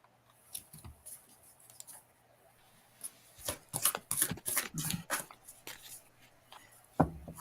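Playing cards being shuffled at a live reading session, a quick run of crisp riffling clicks near the microphone, with quiet room noise around it.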